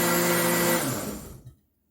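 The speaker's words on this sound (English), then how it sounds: "just blend all these ingredients together on medium" A loud blender whirs steadily on medium speed, blending jerk sauce ingredients, then winds down and stops, leaving silence.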